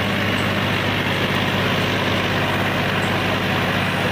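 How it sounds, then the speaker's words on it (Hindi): A Massey Ferguson 9500 Smart tractor engine runs steadily at idle, a loud, continuous low diesel rumble close by with no talking. "मैसी की आवाज़ ज़्यादा नहीं है, साइलेंट आवाज़ है इसकी"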